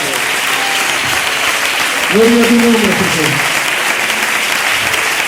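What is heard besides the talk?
applause at a church service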